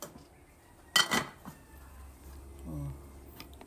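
A metal lid set back onto a cooking pot while boiling a fruit, giving a sharp clatter and brief ring followed by a quieter settling knock, close by and otherwise fairly quiet.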